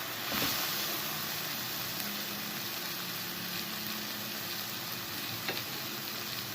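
Tomato being stirred into shrimp frying in a pan, heard as a continuous sizzle with occasional soft stirring clatter, fairly even and unbroken by talk.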